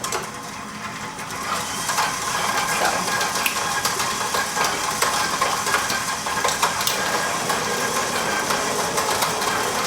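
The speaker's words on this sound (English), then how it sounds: "give it a whirl with the paddle attachment" A stand mixer running its paddle attachment through almond paste and butter for creaming makes a continuous mechanical whir and grinding churn, close and steady throughout, with a voice speaking briefly over it.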